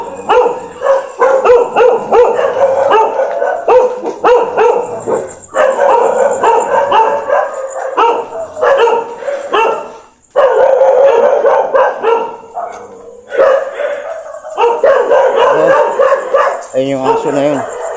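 A dog howls and barks at night during a volunteer night patrol, its drawn-out wavering calls rising and falling in long bursts with short gaps, loud and fairly close, with people talking intermittently around it.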